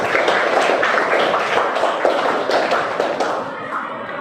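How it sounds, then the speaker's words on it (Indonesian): A classroom of students applauds for a classmate, a dense patter of many hands clapping at close range, holding steady for a few seconds before thinning slightly. "tepuk tangan untuk Farah"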